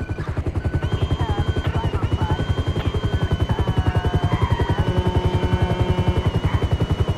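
Police helicopter in the GTA 5 video game, its rotor chopping in a steady, loud, continuous pulse throughout, with faint game effects layered over it.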